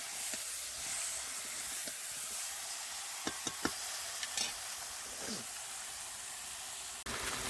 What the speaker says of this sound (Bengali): এই যে কষাচ্ছি, প্রায় 10 মিনিটের মতো কষাচ্ছি